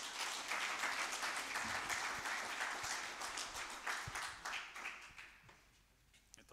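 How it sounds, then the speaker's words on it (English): Sustained applause from an audience at a university public lecture, a dense wash of many hands clapping steadily at a moderate distance, fading gradually toward the end. "let us put our hands together as we welcome Dr. Jones."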